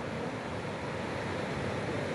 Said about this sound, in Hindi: शोर करता दरिया